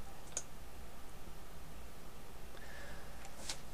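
A computer mouse gives two faint, sharp clicks about three seconds apart in a quiet room with a soft background hiss.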